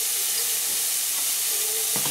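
Onion and sweet pepper sauté in a pan with a steady, even sizzle and soft steam hiss that continues throughout, close and fairly loud, with a brief stir clack near the end.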